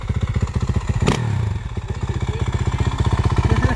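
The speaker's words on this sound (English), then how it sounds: "I haven't seen anybody kickstart a bike in so long, dude." A Honda CR250 two-stroke dirt bike engine chugs in steady rapid pulses at close range, broken by a single heavy thud from the kickstart near the start, then settles back into its loud, even idle.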